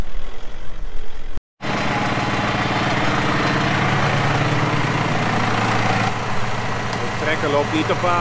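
A farm tractor engine runs steadily at close range during field soil transport, a continuous low rumble with a brief dropout near the start and a shift in tone toward the end.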